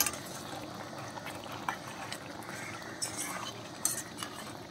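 Beef curry with masala being stirred in a pan, soft scraping and light clinks of a spoon over a low bubbling simmer, a few sharper taps standing out, fairly quiet and steady with no talking.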